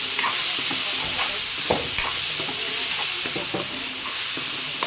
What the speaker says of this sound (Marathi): तर आता मी इथे टाकलेला आहे कांदा आणि टमाटर असा ग्रेव्ही मसाला करायसाठी